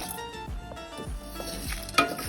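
Spices for puliyodharai powder dry-roasting in a pan over a medium flame, a soft continuous crackle with a few light scrapes and taps as they are stirred, short and unaccompanied by speech.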